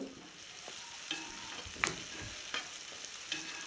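Onions and dried red chillies frying in a pan give a steady, fairly faint sizzle, broken by a few soft scrapes and clicks of stirring.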